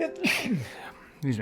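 A single short human sneeze sounds close and loud, followed by a person speaking briefly.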